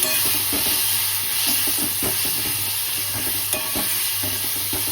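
Tomato-chili thecha frying in hot oil, a loud close sizzle with repeated stirring scrapes of a spoon against the pan, no one talking.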